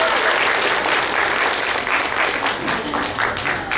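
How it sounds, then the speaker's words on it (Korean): A church congregation at a Sunday worship service claps loudly and steadily for almost four seconds, a dense, continuous wash of applause that fills the room, with no voices standing out over it. "한 번 더 박수 부탁합니다."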